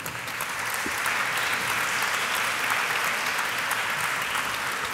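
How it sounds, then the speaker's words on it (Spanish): Steady, dense audience applause fills the hall after a lecture by Professor Alain Touraine, a continuous wash of clapping at even loudness with no voices over it. "Le damos un aplauso."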